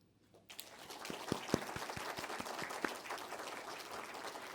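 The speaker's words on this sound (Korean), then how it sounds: "박수로 빛을 맞이했으면 좋겠습니다." A church congregation at a Sunday Advent service bursts into applause as a candle is lit, starting from near silence and swelling into sustained clapping with individual sharp claps standing out, moderately distant and steady.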